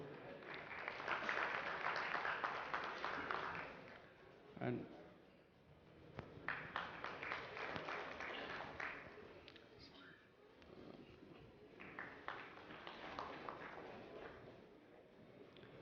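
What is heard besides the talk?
audience applause at summit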